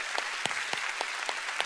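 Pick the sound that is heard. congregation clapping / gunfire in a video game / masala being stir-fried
congregation clapping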